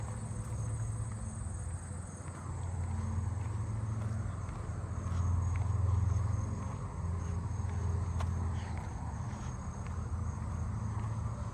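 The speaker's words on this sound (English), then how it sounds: "I think that four-spotted or black corn tree cricket has been coming from that tree right there." A tree cricket, either four-spotted or black-horned, calls from a neighbourhood tree: a steady, continuous trill holding at an even, moderate level throughout, with no voices.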